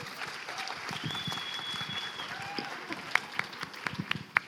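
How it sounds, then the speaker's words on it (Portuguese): Audience applause at an academic symposium, a fairly quiet, dense patter of many hands clapping that grows into sharper, closer claps toward the end. "Por favor, palmas para ele."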